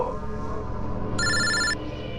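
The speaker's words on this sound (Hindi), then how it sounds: "कोई फोन क्यों नहीं उठाता? फोन उठा लो।" A telephone bell rings once in a single short electronic burst, loud and close, against a steady low background.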